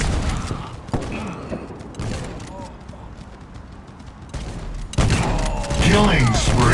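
Gunfire from the Guns of Boom shooter game crackles in bursts and single shots, with sharp booms and a loud flurry near the end, mixed with game announcer calls.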